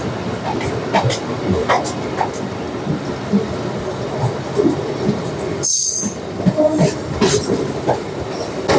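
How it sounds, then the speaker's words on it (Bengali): A MEMU passenger train leaving Raniganj station rumbles along the rails with rhythmic clattering and high wheel squeals, heard from inside a carriage with background chatter and a brief sharp hiss. "রানীগঞ্জ স্টেশন আমাদের ট্রেন ছেড়ে বেরিয়ে যাচ্ছে"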